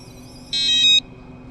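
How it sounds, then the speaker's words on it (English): A single loud electronic beep from an RVLock V4 RV door lock as it locks, high and tonal, lasting about half a second over a faint background hum. "It has a very distinct tone when it locks and unlocks."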